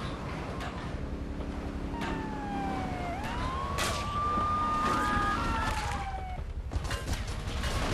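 Police sirens wail in the GTA 3 video game, a rising and falling tone sweeping over busy game noise, fairly loud and continuous, with no talk.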